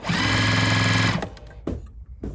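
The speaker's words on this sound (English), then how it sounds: "So let's go ahead and sew and see how it looks." A Juki TL-series sewing machine stitches fabric in a fast, steady mechanical whir for about a second, then stops and is followed by a few light clicks and handling sounds.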